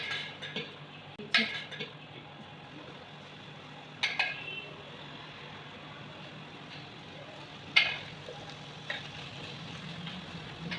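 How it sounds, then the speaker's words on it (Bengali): Marinated potato pieces dropped one by one into an air fryer basket, giving a few light knocks and clinks spaced several seconds apart over a steady low background hum. "ম্যারিনেট করা আলুগুলোকে একটা একটা করে এর মধ্যে দিয়ে দিচ্ছি"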